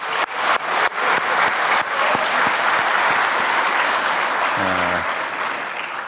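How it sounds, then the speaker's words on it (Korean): A large crowd applauds in thanks at a Hyundai Motor event in Saemangeum, South Korea, attended by the president. The applause is loud and sustained and opens with a few separate sharp claps, and a brief low tone sounds near the end. "우선 감사의 박수 한번 드리겠습니다."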